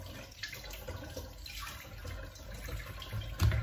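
A kitchen tap runs steadily while food is rinsed under it, giving a continuous close rush of water that swells briefly louder near the end.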